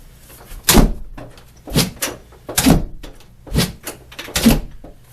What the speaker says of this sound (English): So I ended up taking that foam off so that the door would shut.